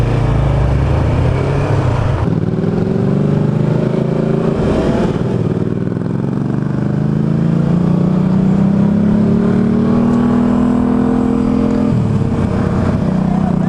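A Tofaş Doğan SLX car engine idles with a rough exhaust rumble through its original exhaust, revving up and down a few times over the steady drone.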